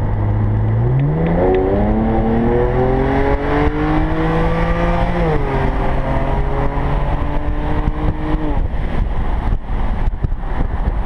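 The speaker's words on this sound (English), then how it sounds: "you can hear the lag between gears" A 2013 BMW 335is engine with a JB4 tune revs up steadily, drops in pitch as the automatic gearbox shifts with a lag between gears, then climbs again with another shift, loud and close over road noise.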